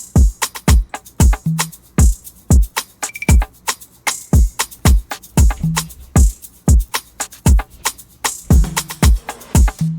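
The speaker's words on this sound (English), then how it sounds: "The first shaker sounds like this." A shaker plays a steady pattern of crisp, close, dry rattling strokes inside a beat, with a punchy kick and a few short melodic notes under it.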